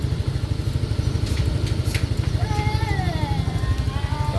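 A 2017 Yamaha Mio i scooter engine idles with a steady pulsing putter close by, while someone talks and a bird chirps faintly in the background.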